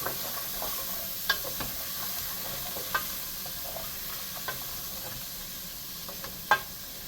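Green bell pepper and other holy trinity vegetables sweat in a gumbo pot, giving a soft, steady sizzle with occasional spoon taps and stirring clicks against the pot.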